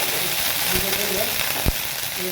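Ginger garlic paste frying with onions in a pan for masala Maggi, a steady broadband sizzle running throughout with faint stirring knocks and one short sharp thump near the end.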